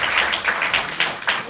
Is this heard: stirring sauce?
no